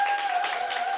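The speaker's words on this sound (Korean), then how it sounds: "박수 한번 주세요." A live audience claps together in a lecture hall during a talk on success, a steady wash of applause with a faint tonal hum running underneath.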